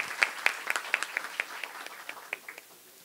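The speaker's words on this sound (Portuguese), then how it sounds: "uma salva de palmas, por favor" Sparse applause at a parliamentary front session in Brazil, a handful of distinct hand claps ringing out fairly close and irregularly before thinning out.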